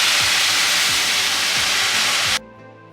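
Chicken and vegetables are stir-fried in a pan as the stir-fry sauce is poured in. A loud continuous sizzle with a few rhythmic scrapes underneath cuts off sharply near the end.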